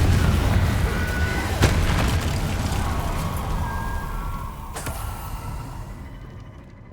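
Confringo blasting spell from Hogwarts Legacy, exploding as two sharp, loud bursts a few seconds apart over a dense, rumbling game soundscape that fades out at the end.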